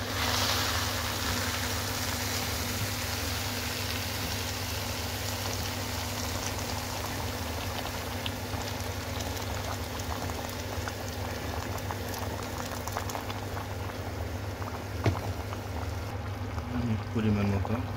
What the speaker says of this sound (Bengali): এই পর্যায়ে আমি গরম পানি ঢেলে দেব এখানে